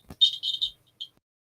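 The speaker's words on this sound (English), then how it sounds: "A completely different buzzer at the moment." Buzzer of a homemade retro-style ghost hunting EM pump device, sounding as a few short, shrill electronic buzzes close by, a burst of three then one brief final beep, with no talk.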